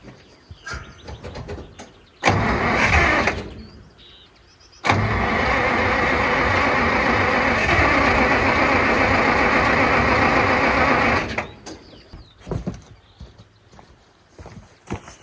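A Soviet ZIL V8 truck engine cranks on a cold start and fails to fire. The starter grinds loud and steady for several seconds after a brief earlier burst, then cuts out, leaving faint handling noises.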